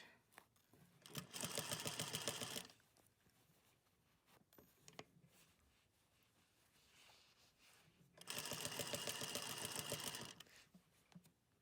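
Sewing machine running a straight stitch along the edge of a fabric face mask, two rapid whirring bursts of a few seconds each separated by quieter handling noises, close and alone.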